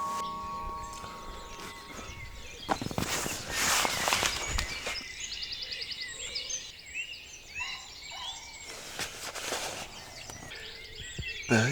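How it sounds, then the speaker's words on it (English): Birds calling and chirping in Sherwood Forest during an overnight camp, a dense outdoor chorus of varied calls at moderate distance alongside rustling and a few louder handling thumps, with no talking. "Birds are noisy."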